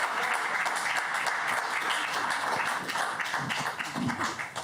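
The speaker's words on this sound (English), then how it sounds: "a big clap for Mao Sone" An audience at a master's graduation presentation claps for a presenter, a steady wash of applause with scattered individual claps, moderately loud and continuous throughout.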